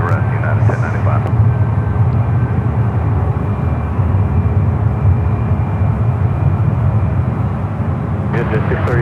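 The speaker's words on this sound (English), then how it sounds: "a Delta A321neo, now rolling down to 28 left" A Delta Airbus A321neo jet rolls down runway 28 left at San Francisco airport, a loud steady engine roar filling the whole stretch, with radio-style talk heard faintly at moments.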